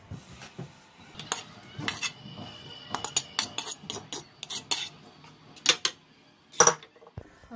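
A spoon clinks and scrapes against a pan while roasted mawa is stirred into carrot halwa, making irregular sharp metallic taps close by with quiet pauses between them.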